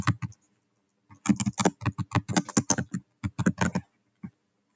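Quick keystrokes on a computer keyboard as a folder name is typed, two short bursts of clicking separated by a brief pause, close and crisp with no talking.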